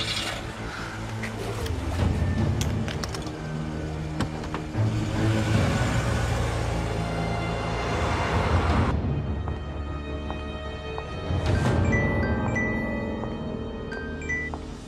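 A taxi car engine running and pulling away, a steady close motor drone that swells and settles, then drops off sharply before a brief renewed rumble.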